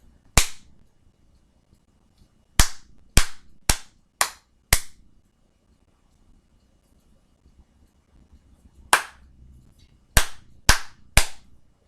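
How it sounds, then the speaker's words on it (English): Sharp, close hand claps ring out for a whole-note rhythm rap: one clap, then a steady run of five, a pause, and a final run of four, each crisp with a short decay in a quiet room. "I'm going to clap it"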